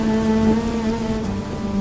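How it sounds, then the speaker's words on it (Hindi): Heavy rain falls outside a hut as a dense, steady wash with no breaks, and a low, sustained tone runs underneath it. "बाहर अब भी तेज बारिश हो रही है।"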